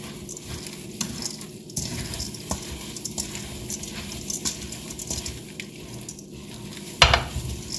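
Rice stuffing for grape leaves is stirred and mixed with a utensil in a bowl, making steady soft scraping and patter with small clinks and a louder knock near the end.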